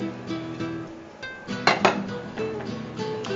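Tempered seasoning is stirred into thick ragi paniyaram batter in a pan, with a spoon clinking and scraping against metal in short bursts and a louder clatter midway.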